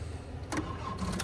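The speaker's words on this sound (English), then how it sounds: "we're gonna get the excavator started" An excavator engine cranks and catches in the snow, giving two short rough bursts of starting noise against a steady low rumble.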